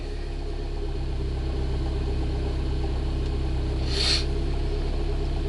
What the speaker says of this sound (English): as you can see, the idle is smoothed out